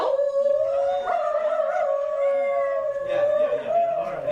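A single coyote-style howl, sustained and wavering for several seconds, performed live by a theater troupe at a county fair, with no talk over it; it may be a human voice imitating the call.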